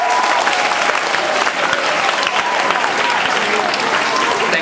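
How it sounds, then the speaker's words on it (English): An audience at a school debate gives the debaters a loud, sustained round of applause, a dense, even clatter of many hands close by with crowd murmur mixed in. "So, a round of applause to everyone."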